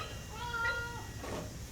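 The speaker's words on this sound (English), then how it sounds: "Got a kitty cat visiting the shop." A domestic cat meows once in a metalworking shop, a single clear, drawn-out call that is close and moderately loud over quiet room noise.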